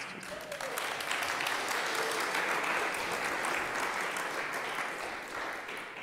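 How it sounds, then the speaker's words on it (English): Sustained audience applause at a TADHack 2014 hackathon pitch session in Madrid, a dense wash of many hands clapping that swells quickly after a brief start and holds steady for several seconds, with a faint voice near the beginning. "It's okay, you can applaud."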